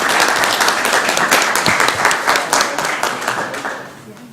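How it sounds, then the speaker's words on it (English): A round of audience applause at a city council meeting in Columbus, Georgia, loud and close with distinct claps, fading toward the end. "Let's give them another round of applause."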